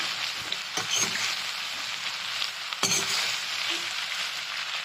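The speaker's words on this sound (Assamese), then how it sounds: "গোটেইখিনি দিলে তেল আৰু দালি আৰু মছলা অলপ ভালদৰে ভাজি ল'ম" Taro pieces frying in a wok with oil, lentils and spices make a continuous close sizzle and crackle, with two sharper clatters of stirring, and no one talks.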